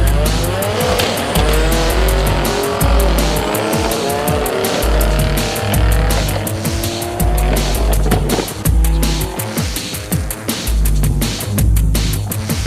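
Nissan R32 GTR race car with an HKS 51R SPL turbo, rated over 1,000 horsepower, screaming hard and revving in rapid pulsing bursts, with shifts and tire noise, loud and close, no talk.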